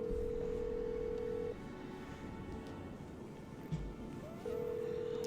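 A telephone in a Nancy Drew video game rings out while a call is placed to George: a steady electronic tone that cuts off, goes quiet with a brief click, then resumes, with no talking.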